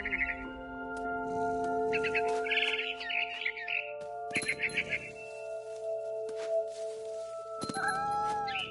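A cat in the game What Remains of Edith Finch gives several short tonal meows and chirps, interleaved with bird calls and a sustained musical drone, at moderate loudness.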